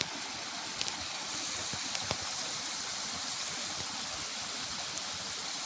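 Water gushes steadily from the outlet of a pump motor switched on by a single-phase auto starter, a continuous close rushing hiss with a few faint clicks.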